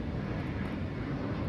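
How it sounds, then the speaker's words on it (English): An airplane passes overhead as a steady, broad roar that stays even in level throughout, with no speech. "There goes another airplane."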